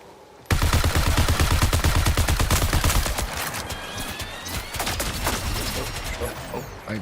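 Sustained automatic gunfire in a first-person shooter game, a loud rapid stream of shots starting abruptly and continuing for several seconds, fading slightly toward the end.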